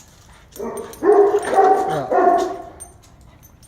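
Dogs in a mock fight let out a run of whimpers and yips in a few short bursts. A person briefly says something.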